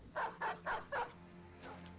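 A dog in the video game Battle Brothers lets out four quick, evenly spaced barks, fairly faint, followed by a softer trailing yelp.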